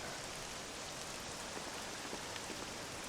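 Steady, even rainfall in Dragon Quest VII Reimagined hisses continuously on surfaces, soft and unbroken throughout.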